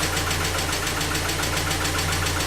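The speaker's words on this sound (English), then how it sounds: "That lifter tick sucks." A 1990 Mazda Miata engine idles close by with a steady rumble and a quick, even lifter tick ticking through it, loud and continuous with no talking.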